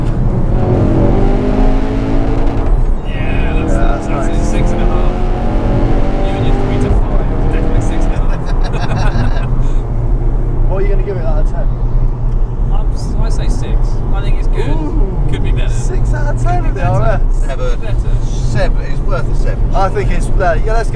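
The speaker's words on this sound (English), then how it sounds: "Ford have engineered a small misfire to make it sound even better, and it only just sharp and rev the nuts off it" Loud Ford hot hatch engine revving hard with crackling, popping bursts from an engineered exhaust misfire, while people talk over it.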